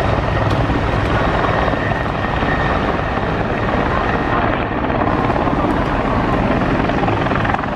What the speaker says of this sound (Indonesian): Wadidaw, ada helikopter.